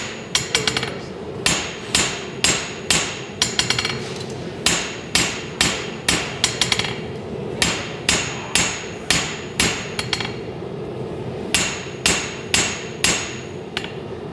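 Hammer forging a knife blade, drawing the edge down: loud, evenly spaced ringing hammer strikes in bursts of several blows with short pauses between, close up and alone.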